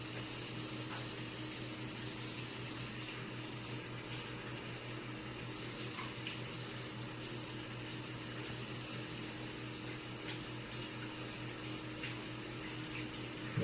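Water runs steadily from a tap while hands are washed at a sink, a constant close splashing flow that lasts throughout with only slight changes and no voices.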